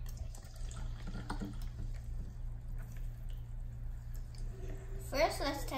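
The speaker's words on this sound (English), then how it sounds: "Let's pour some water in." Sparkling mineral water poured from a bottle into a glass, a soft steady trickle over low background hum, ending in a brief louder splash near the close.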